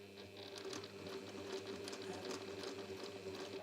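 A sewing machine runs steadily at close range, stitching a quilt on a slightly shortened stitch length, with a continuous fast mechanical whir and a rapid needle tick at a fairly low level.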